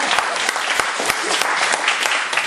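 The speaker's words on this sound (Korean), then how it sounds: "박수 한번 주세요" A church congregation claps in congratulation during a Sunday service, brief, loud and close, with a mix of distinct individual claps over a continuous patter.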